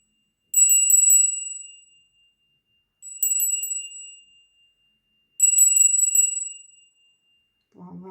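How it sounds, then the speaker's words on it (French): A small bell is rung three times to open a tarot card reading, each bright, tinkling burst ringing out and fading alone, with a brief voice beginning at the very end. "je vais commencer avec la petite cloche pour dire qu'on commence"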